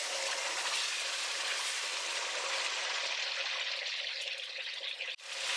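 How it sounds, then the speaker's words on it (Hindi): Marinated chicken fries in hot oil in a kadai, giving a loud, dense, continuous sizzle that fades slightly toward the end. Heard up close with no voices. "एक कढ़ाई में आप डालेंगे तेल"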